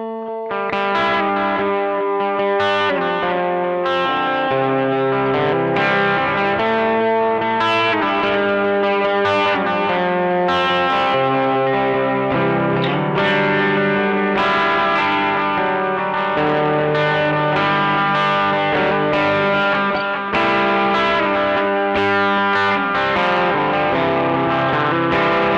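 Electric guitar played through a small pedalboard with delay and the tone knob rolled back, a continuous run of warm, softened notes with repeating echoes trailing behind them, loud and alone with no talking.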